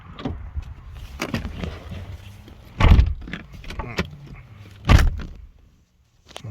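A Nissan GT-R is entered: a door opens and thuds shut, followed by scattered clicks and rustling as someone settles into the seat.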